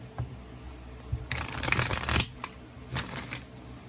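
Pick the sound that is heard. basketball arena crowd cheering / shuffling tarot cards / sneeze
shuffling tarot cards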